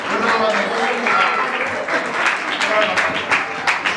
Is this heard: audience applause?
yes